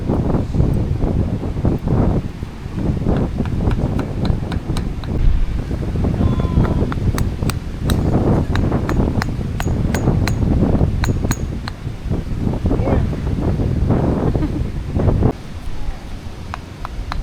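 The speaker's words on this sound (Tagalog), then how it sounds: "Yung bagyo ngayon guys." Stormy wind lashing a camping site, a loud continuous low roar with gusty buffeting on the microphone, punctuated by scattered sharp clinks and ticks, with voices faintly in the background.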